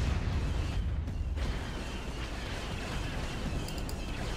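Cannons firing and exploding in the Empire at War space strategy game, a dense continuous roar of booms and bursts layered together at steady loudness with no clear pauses.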